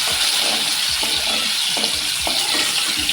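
Tomatoes cook down in a pan for a spicy Maharashtrian crab curry, sizzling and frying steadily up close, with soft stirring scrapes. No one speaks.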